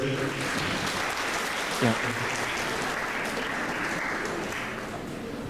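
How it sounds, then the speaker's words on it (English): Steady audience applause at a clinical training conference fills the room, a dense even wash of clapping with a brief spoken word partway through. "a big round of applause for yourself"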